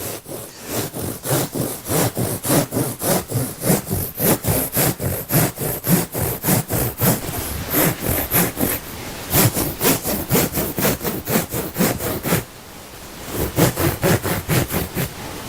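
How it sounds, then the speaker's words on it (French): A serrated bread knife sawing through a wood fibre insulation batt (Isonat Plus 55 Flex), with loud, close, rhythmic back-and-forth strokes that pause briefly once before resuming. "Alors pour couper, on utilise un couteau."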